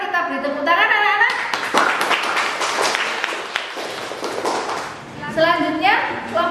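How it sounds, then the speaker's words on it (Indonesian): Schoolchildren in a classroom clapping for a group that just presented, a brief patter of hand claps between a teacher's spoken remarks at the start and end. "Kita beri tepuk tangan anak-anak."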